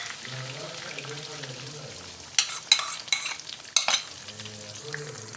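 Thinned packet cream and milk poured into chicken cooking in a pan for creamy black pepper chicken: a low simmering bubble, then several sharp bursts of sizzling and splashing as the liquid hits the hot pan, settling back to a gentle simmer.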